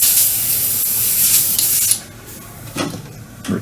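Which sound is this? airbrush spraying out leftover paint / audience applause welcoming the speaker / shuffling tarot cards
airbrush spraying out leftover paint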